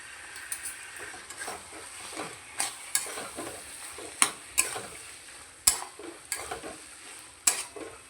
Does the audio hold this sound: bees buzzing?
no